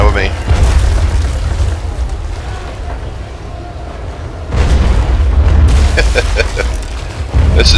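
Naval cannons firing single shots in Naval Action during a close-in sea battle, heard as deep booming blasts with rumbling tails at intervals under loud, busy game noise.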